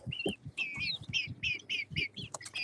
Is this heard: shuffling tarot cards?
no